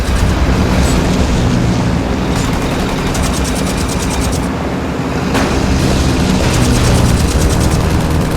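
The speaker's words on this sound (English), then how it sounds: "Listen! I hear airplanes!" Airplanes roar overhead during a chase in The Saboteur video game, a loud, steady, broadband drone with rumbling layers that persists without a break.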